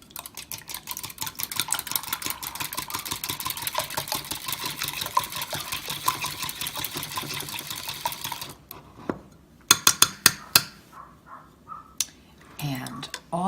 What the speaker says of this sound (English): I'm going to give these a quick mix to combine them.